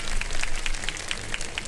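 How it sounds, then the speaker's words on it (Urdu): Studio audience applauding on a Pakistani Ramadan iftar game show: steady, dense clapping from a crowd, continuous and fairly loud with no talk over it. "بہت ساری تالیاں دیں ان کے لیے ایک بار"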